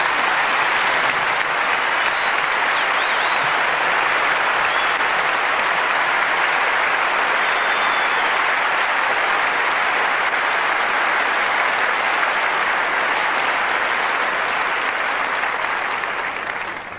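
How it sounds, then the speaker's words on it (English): A large crowd at the 1996 Australian Open women's tennis presentation ceremony, Seles vs Huber, applauds loudly and steadily for the full stretch, a dense even wash of clapping that only tapers slightly at the very end. "Once again, a round of applause"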